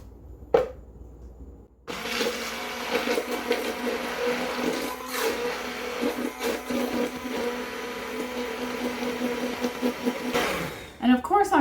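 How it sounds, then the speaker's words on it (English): A blender runs continuously for about nine seconds, whizzing a chocolate pots de crème pudding mixture longer than needed to aerate it, with a steady loud motor whir that cuts off near the end. "I'm whizzing it up a little bit more than is necessary just to mix it, because I want it to aerate some"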